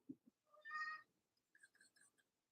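A house cat gives a soft meow, then a longer drawn-out meow, followed by a string of short faint chirps, close but quiet in a calm indoor room.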